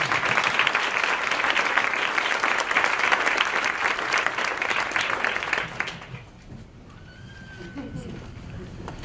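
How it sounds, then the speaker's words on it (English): An audience at a Black History Month event in Montgomery County gives awardees loud, sustained applause for about six seconds, then it fades into quieter room sound with faint voices. "give our awardees a round of applause for a great work they're doing"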